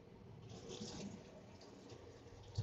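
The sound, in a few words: water flushing in a train washroom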